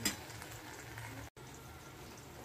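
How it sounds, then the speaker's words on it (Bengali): Eggplant pakoras frying in hot oil, a soft, steady bubbling sizzle close by with faint utensil sounds and a brief dropout midway, no talking. "এই যে বেগুনের পকোড়া। গরম গরম ভাজছি।"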